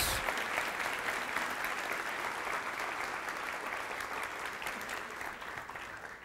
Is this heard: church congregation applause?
yes